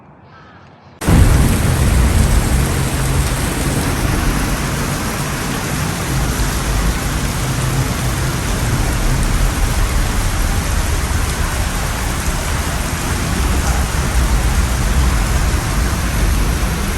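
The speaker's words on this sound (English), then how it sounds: "Today rain too much." Heavy rain pours down during the rainy season in a sudden, loud, steady hiss that starts after a quiet second and continues unbroken to the end.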